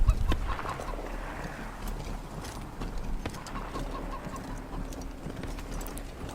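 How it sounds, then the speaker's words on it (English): A chicken in the video game Wasteland 3, at the Garden of the Gods, makes a few soft, intermittent clucks over a quiet game ambience with faint clip-clop-like taps. "Maybe this chicken will lead the way."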